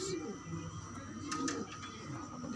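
Pigeons give soft, low, throaty coos, close by and faint, over a murmur of background sound.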